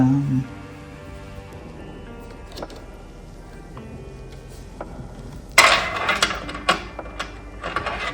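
A Baby Lock embroidery machine stitching a hat patch hums faintly with a steady mechanical whir, then rapid tapping stitching bursts come through louder near the end, no talking.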